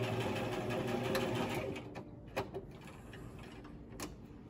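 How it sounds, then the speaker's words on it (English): Sewing machine stitching a seam on a fabric face mask, a steady close whirring run that stops after about two seconds, followed by a few soft clicks and handling sounds. "You want to make sure to backstitch at the beginning and end, and then come all the way down"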